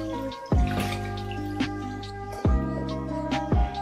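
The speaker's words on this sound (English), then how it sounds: "Strain out the condensed broth." Condensed Taiwanese beef noodle soup broth is strained, giving a few distinct liquid drips and splashes at uneven intervals over a steady faint hum.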